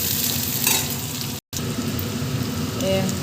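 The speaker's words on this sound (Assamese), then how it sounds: "অলপ সময় ভাজিম এনেকৈ" Onion and garlic with panch phoron spices frying in oil in a pan for a paneer dish, a steady close sizzle with a stirring scrape, briefly cut by a short silent gap.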